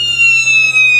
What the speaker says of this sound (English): they'll go ahead and hit the alarm